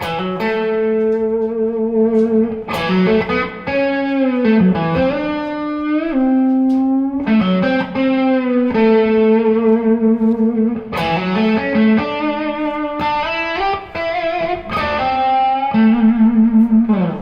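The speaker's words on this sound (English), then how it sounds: "now I'm adjusting my vibrato speed, I'm adjusting how far I'm bending up" Distorted electric guitar with heavy effects, sustained notes bending up and down with wavering vibrato, played continuously and loud with no talking.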